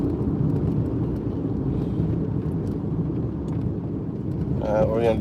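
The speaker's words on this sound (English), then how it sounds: "Car coming." A car approaches along a rural road beside rice paddies, a steady low engine and tyre rumble building gradually, with wind buffeting the microphone and a voice briefly speaking at the end.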